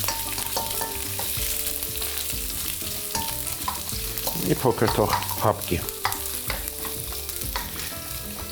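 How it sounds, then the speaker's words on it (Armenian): Carrots fry in a small amount of olive and sunflower oil blend while being stirred briskly, with steady sizzling and repeated scraping strokes that swell midway, all under continuous background music. "և արագ-արագ խառնելով տապակում"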